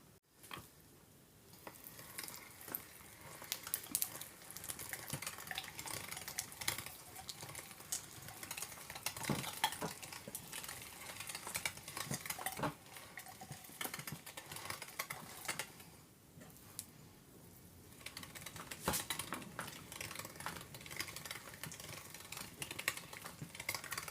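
Pieces of pork fat are fed through a meat grinder, a soft, continuous crunching and rattling churn that goes on for about twenty seconds with brief pauses, quiet and without talk.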